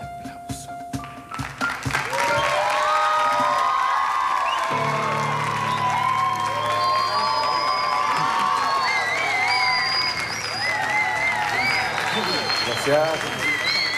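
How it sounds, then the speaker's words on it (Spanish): A large crowd at a farewell tribute to Ruben Rada in Uruguay bursts into loud, sustained applause with cheers and whoops, filling the space continuously. "Fuerte aplauso."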